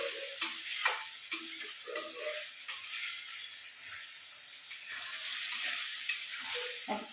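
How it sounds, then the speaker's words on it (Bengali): Masala chicken being stirred in a pan produces intermittent scraping and tapping strokes against the pan over a soft background sizzle, close by and fairly quiet. "এবার এটা না একটু নাড়তে হবে, তা না হলে মশলাটা পোড়া লেগে যাবে।"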